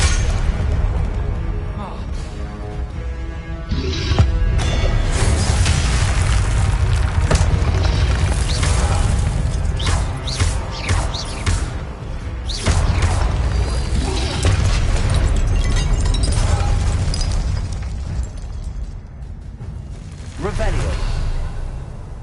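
Incendio fire spells blast in the video game Hogwarts Legacy, loud booming whooshes and bursts recurring irregularly over a busy game soundscape, with a player speaking between the blasts.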